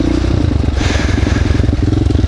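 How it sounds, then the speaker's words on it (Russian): KTM enduro motorcycles riding nearby, a loud, steady engine drone with a pulsing rhythm and some clattering, heard without any talking. "Ребята на КТМчиках нас догнали."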